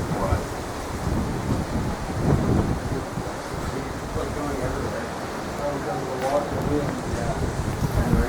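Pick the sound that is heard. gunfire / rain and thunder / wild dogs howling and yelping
rain and thunder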